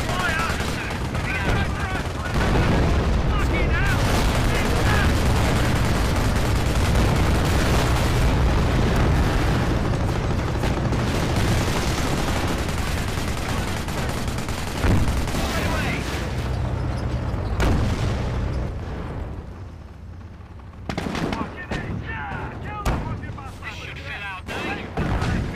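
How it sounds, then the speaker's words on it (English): An artillery barrage rages in the WWII strategy game Company of Heroes during a battle for Lyon, with dense gunfire, machine-gun bursts and heavy explosions layered loudly for a long stretch before thinning out, while someone talks over it. "I'm calling in the artillery"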